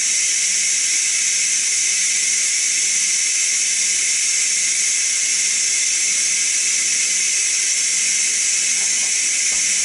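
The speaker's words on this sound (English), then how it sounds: "the steam's slowing down now, so I think it's about finished letting off steam" Steam hisses steadily out of a Ninja Foodi pressure cooker's release valve while it vents after cooking baby back ribs, a loud, even, bright rush that holds constant throughout with no voices.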